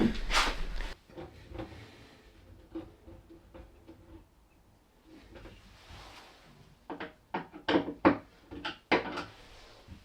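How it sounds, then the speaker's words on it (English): Screwdriver adjusting the hinge of a cupboard door in a workshop, heard as light ticks and small clicks that come scattered and then grow more frequent near the end, close and quiet. "So I'm just going to get the screwdriver on that hinge, pick that up a bit."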